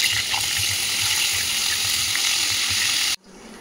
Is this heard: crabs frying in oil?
yes